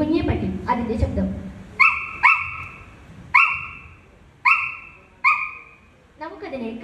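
A mimicry artist on a stage show voices a puppy's whimper: after brief talk, five high, thin whining cries follow, each starting sharply and tapering off, with short pauses between them.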